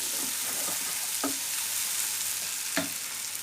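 Onions for a hilsa fish bharta fry in a pan with a constant bright sizzle, broken by a few short scraping stirs, close and with no talking.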